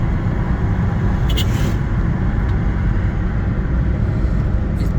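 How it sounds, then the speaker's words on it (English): Steady engine drone and road rumble heard from inside a moving tuk-tuk on a road trip in Kenya, loud and unbroken, with a brief rattle partway through and no talk. "The mode of transport here is tuk-tuk."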